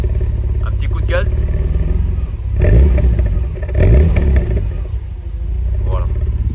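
A Mercedes W124 engine idles with a deep, burbling tone, swelling twice with short blips of the throttle before settling back, loud and close, with faint voices in the background.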